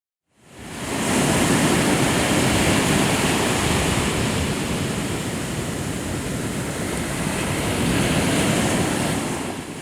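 Surf rolls steadily onto a Caribbean beach, a broad continuous wash of breaking waves that stays loud and close for the whole stretch with no voices.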